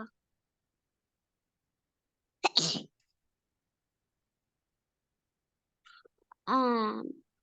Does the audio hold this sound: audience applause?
no